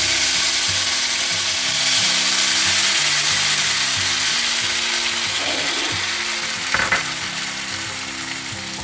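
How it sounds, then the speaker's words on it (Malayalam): A tomato and onion mix hits hot oil in a pan, giving a loud, steady sizzle that carries on throughout, with a brief clatter near the end. "ചൂടായ എണ്ണയിലേക്കാണ് നമ്മുടെ തക്കാളിനെയും ഉള്ളിനെയും മിക്സ് ഒഴിച്ചു കൊടുത്തത്"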